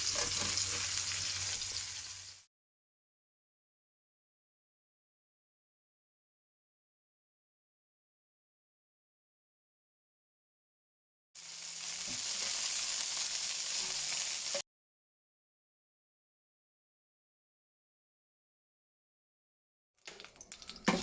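Rabbit pieces with fatback frying in a pan, a steady loud broadband sizzle in two bursts separated by long silences, with a brief return at the very end; no talking.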